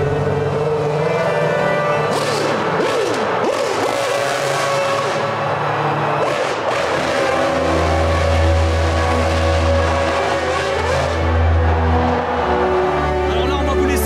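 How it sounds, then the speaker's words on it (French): 2012 Formula 1 cars with 750-horsepower V8 engines circle the Le Mans circuit, a loud sustained engine drone that swells and fades as they pass, with a crowd murmur beneath and no clear talk. "Ce sont des V8 de 750 chevaux pilotés par ce qui se fait."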